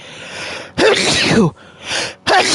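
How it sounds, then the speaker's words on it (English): A loud, close sneeze with a sharp intake of breath before it, followed by a second burst. "I'm gonna sneeze"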